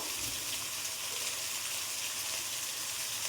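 Potatoes fry in hot oil for a Bengali fish curry, giving a steady, even sizzle that stays close and constant throughout with no voices.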